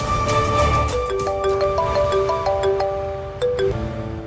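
A phone rings with a melodic electronic ringtone during a film scene, a sequence of clear stepped tones playing loudly for several seconds over faint background sound.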